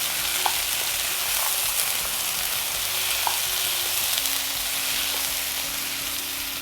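Green peas frying in oil with salt over low heat in a pan, a steady soft sizzle running throughout with a few faint clinks of a spoon stirring, no voices.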